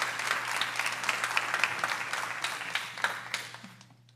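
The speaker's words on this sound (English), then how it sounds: "Emerson Beasley, you can hold your applause, please." Applause in the room at a Martin County school board meeting, moderately distant clapping that holds steady, then thins and fades out near the end.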